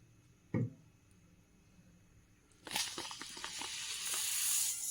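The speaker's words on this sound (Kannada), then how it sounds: "ಬಾಣಲಿಗೆ ಎಣ್ಣೆ ಹಾಕೊಳ್ಳೋಣ." Oil hitting a hot pan for avalakki upittu (poha upma) bursts into a steady crackling sizzle partway through, after a brief thump, growing brighter and continuous toward the end.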